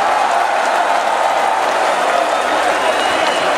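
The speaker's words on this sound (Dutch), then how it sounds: "applaus voor jezelf, applausje voor jezelf" A festival crowd at an outdoor music event in Zelhem claps steadily and densely throughout, a continuous wash of applause with faint cheering mixed in.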